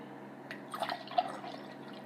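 Tea trickles and drips into a cup, with a few small splashes, close and fairly quiet.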